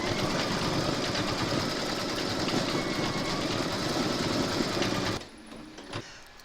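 An embroidery machine stitches a muddy paws and kitty claws coaster design with a fast, loud, continuous mechanical whirr that stops abruptly near the end, leaving faint room noise and a soft clunk.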